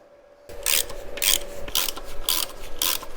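Ratchet undoing a 13mm nut on a VW Golf Cabriolet engine during timing belt work, five quick bursts of rasping clicks at an uneven rhythm, close and clear with no talking.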